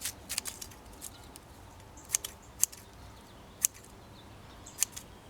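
Bananas are cut into little pieces for garden compost: a handful of sharp, crisp snips at irregular intervals, close and fairly quiet over faint outdoor background.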